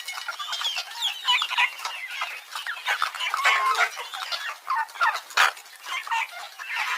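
Chickens clucking and cackling in a farmyard, a busy overlapping chorus of hens close by with sharper calls breaking through, no voices.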